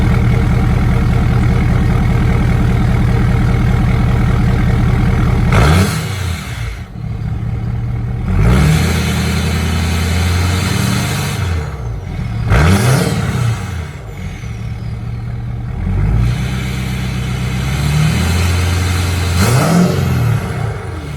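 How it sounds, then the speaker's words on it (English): A 2017 Ford Powerstroke diesel truck engine idles with a steady low rumble, broken by about five short, sharp revs spread through the clip, each rising and falling back to idle, heard up close with no talking. "let her idle for a little while, and then yeah, well, give you a few little tiny revs"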